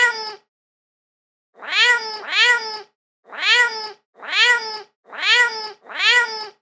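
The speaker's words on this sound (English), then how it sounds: "It's a cat." A cat meows about seven times, close and clear: one short call, a pause of over a second, then a steady run of drawn-out meows, mostly in pairs.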